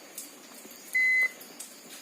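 A single short high-pitched buzzer beep from a multimeter in diode/continuity test mode, clear against a quiet room background, with faint handling noises around it.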